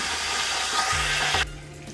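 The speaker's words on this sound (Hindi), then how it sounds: "मैं इसमें पानी ऐड करके इसको ढक के रख दूँगी" Water poured onto fried onions in a hot cooking pot gives a loud, close, continuous sizzling hiss that cuts off sharply near the end and leaves a quieter simmer.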